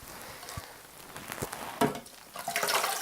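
Hibiscus tea being poured out, a pattering, splashing stream heard close up in uneven bursts, growing steadier and louder toward the end, with no voices.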